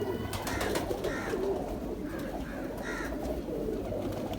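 Pigeons coo softly and repeatedly over a steady low background hum, several birds layering their throaty calls close by.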